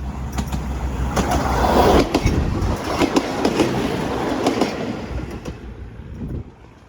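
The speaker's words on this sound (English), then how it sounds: "some of these commuter trains have started up again" A commuter train rumbles past on the tracks in Battambang, Cambodia, with rhythmic clickety-clack of wheels over rail joints, loud and close, fading slightly at the end.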